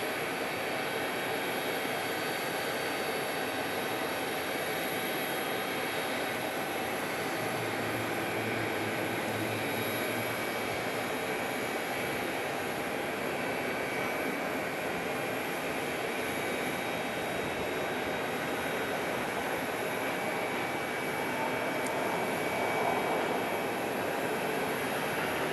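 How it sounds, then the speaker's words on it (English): An American Airlines Airbus A321neo arriving from Denver at Phoenix Sky Harbor gives off a long, continuous jet roar with a persistent high whine, holding steady and loud throughout. "Is American 1762 on an A321neo from Denver"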